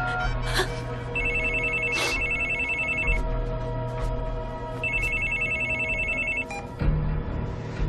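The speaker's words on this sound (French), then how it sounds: "On va appeler Jacob Kelly et on va voir ce qu'il pense de tout ça" A telephone rings in repeated bursts while a call is being placed, loud and close, with a steady electronic tone pattern over background hum and no talking.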